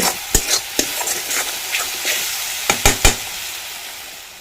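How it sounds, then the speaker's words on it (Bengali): Spice paste and country chicken fry in mustard oil over a low wood-fired stove, with irregular spatula knocks and scrapes, several quick clustered taps near the end, over a faint steady sizzle, close up and without speech. "মশলাটা আমার খুব ভালোভাবে কষিয়ে নেওয়া হয়ে গেছে দেখুন তেল ছেড়ে দিয়েছে"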